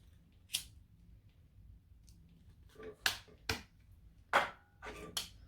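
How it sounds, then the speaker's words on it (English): Quiet, sparse scissor snips trimming thread tails, a few sharp clicks spaced irregularly over several seconds in a hushed room. "And then trim the tails, and if they need to, give them a melt."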